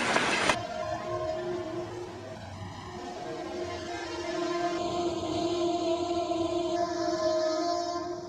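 A smoky train rumbles past steadily with a mix of engine drone and rail noise, holding at a constant loud level throughout.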